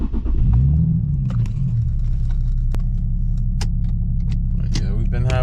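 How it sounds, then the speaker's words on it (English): An Infiniti G37 Sport engine cranks and catches, then settles into a steady low idle rumble close by, with scattered clicks and small rattles over it. "we are finna crank her up, and take her on the test ride."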